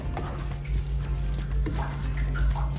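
Water poured into an idli steamer pot gives a steady, close trickling and splashing that runs throughout under a low background hum.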